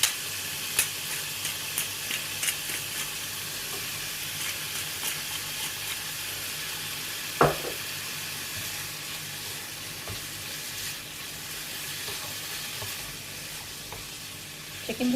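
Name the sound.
chicken frying in a pan with black pepper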